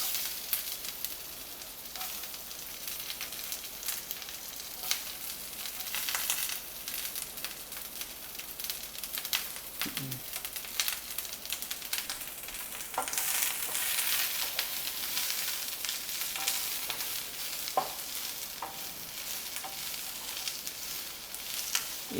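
Onions and bell peppers frying in a very hot, smoking pan for a paneer kathi roll, a continuous soft sizzle and hiss with occasional louder crackles and stirring scrapes, no voices.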